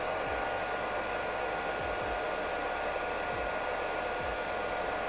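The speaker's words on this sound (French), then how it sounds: "La brosse va tourner très vite, hein, et ça va récupérer toute l'eau sale et la mettre dans ce réservoir." The brush of a Redkey W12 wet vacuum spinning during its self-cleaning cycle, a steady loud whirring hum with faint periodic low thumps.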